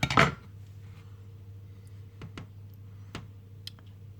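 A knife cutting crab chip dough into thin slices, a clatter at the start followed by several sparse, crisp taps of the blade on a board, close and quiet over a low hum.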